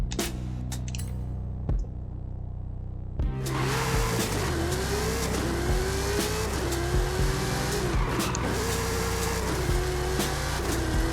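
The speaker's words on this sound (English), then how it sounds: "This car doesn't seem to drive horrible." Engine of a one-of-one design car in Forza Horizon 5, quiet and sparse for about three seconds, then a loud, steady engine drone that rises and shifts through gears with faint tire noise, continuing to the end.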